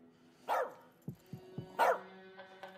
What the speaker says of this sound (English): You, keep that dog quiet.